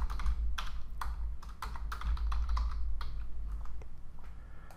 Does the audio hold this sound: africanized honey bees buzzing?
no